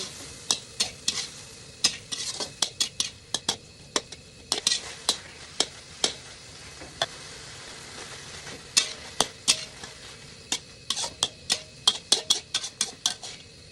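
Eggs being stir-fried in a pan with chi pom, a spatula scraping and clacking against the metal in a quick irregular rhythm of sharp taps over a faint background sizzle, close and clear with no talking.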